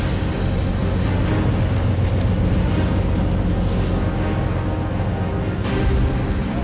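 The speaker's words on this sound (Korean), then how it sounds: "갑자기 파도가 거세다." Rough sea waves crash and surge around a fishing boat during a rainy squall while netting croaker, a loud continuous roar of water and wind buffeting the microphone, with no speech.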